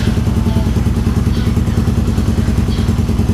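A motorcycle engine starts and settles into a steady, loud, close-up idle with a rapid throbbing pulse and some mechanical clatter, no talking over it.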